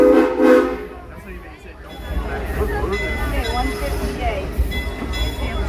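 A passenger excursion train sounds its horn briefly at the start, then rolls on with rumbling wheels and car noise, a voice speaking over the running train.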